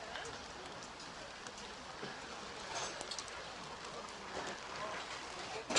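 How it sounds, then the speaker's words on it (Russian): Steady, faint rain falls over an outdoor motorcycle market, a soft continuous hiss with occasional louder drops and patters throughout. "Усилился дождь."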